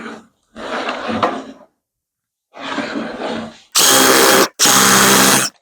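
A power drill cuts a shallow countersink into a wooden workbench for a screw head, running in several short loud bursts with brief pauses between them, close and alone.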